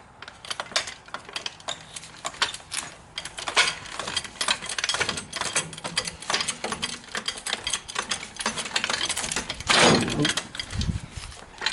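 A jack lifting a Chevy S10 truck, giving a close, steady series of sharp clicking and ratcheting strokes with a brief heavier thump near the end.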